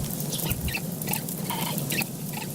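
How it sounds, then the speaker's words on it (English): Animal screams amid a spreading fire in the Rimworld video game: repeated short high-pitched squeals and cries, several overlapping over a steady low crackling background rumble, moderately loud with no talking. "Listen to the screams of dying animals."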